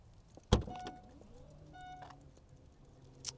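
Hands-free power tailgate on a 2021 Mercedes GLE 53 AMG opening: a sharp latch release, then a soft electric motor hum with faint tones and a closing click, close by and quiet.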